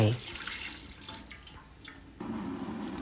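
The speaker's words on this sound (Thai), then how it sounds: "ใส่กะทิลงไป" Coconut milk pours and splashes steadily into a pot for a few seconds, with a brief clatter and background kitchen noise.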